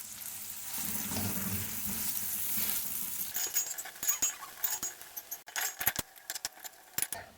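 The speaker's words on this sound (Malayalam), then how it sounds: "ഓയിൽ ചൂടായിട്ടുണ്ട്, നമുക്ക് സവാള ചേർത്ത് കൊടുക്കാം." Sliced onions hit hot oil and ghee in a pan with a soft, steady sizzle for a few seconds, followed by a run of light metallic clinks and clattering utensil taps over the continuing fry.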